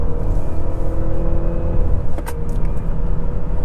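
A 2020 Honda Civic EXL engine drones steadily from inside the car as it drops down to second gear, with a brief higher-pitched rise in revs partway through.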